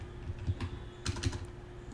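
Computer keyboard keys tapped during AutoCAD drafting: a few quick clicks ending in two firmer Enter presses, close and clear with no voices.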